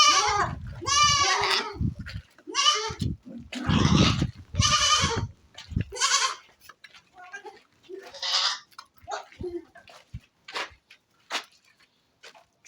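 Goats on a Nigerian farm bleat excitedly at feeding time, several loud, wavering calls close by and one after another, fading to scattered shorter bleats and clicks.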